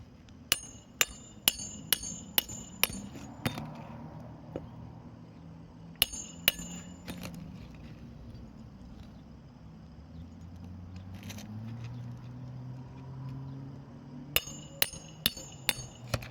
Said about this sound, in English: try to drive the nail down as far as we can